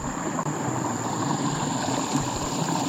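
Water pours out through a sand pot as a duck pond is drained, a constant rushing flow with a faint steady whine above it, heard up close and alone.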